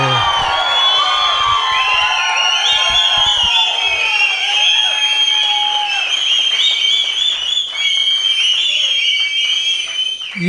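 A large audience applauds continuously and cheers with loud whoops and shouts at an acting academy event in Karnataka, the sustained clapping filling the whole stretch without letting up.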